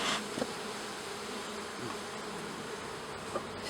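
Agitated honeybees buzz steadily during a hive inspection, a dense, close, continuous drone of many bees that holds at an even level from start to end, with no talking.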